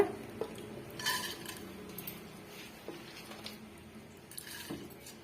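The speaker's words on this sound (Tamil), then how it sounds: "இப்போ நம்ம ஒரு முக்கால் பகுதி அளவுக்கு மட்டும் நம்ம கொள்ளை வந்து சேர்த்துக்கலாங்க" Dry horse gram is poured into a pressure cooker, giving light clinks and rattling patters of small pulses against metal, with a few scattered taps and a soft scraping.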